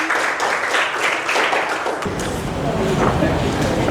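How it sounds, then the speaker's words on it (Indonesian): Applause from a school class for a classmate's presentation, a steady dense patter of many hands filling the room for several seconds, with a voice briefly heard over it. "Ya, berikan tepuk tangan kepada temannya ya"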